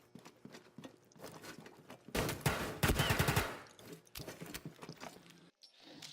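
Pistol gunfire from Blitz in Rainbow Six Siege, emptied as a full mag dump: a dense, loud burst of rapid shots in the middle, framed by quieter mechanical clicks and handling noise.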